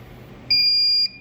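A Prusa MK3S+ 3D printer gives one sharp, high electronic beep lasting about half a second while unloading filament, against a quiet room.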